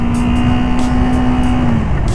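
A 2024 KOVE 321R motorcycle engine held under throttle, a loud steady drone with a sustained tone that holds level, then drops slightly near the end, close and continuous with no talk.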